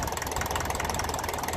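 A 1954 Ferguson TEF 20 diesel tractor engine idles steadily with an even, rapid knocking chug, close and loud, holding a level rhythm throughout.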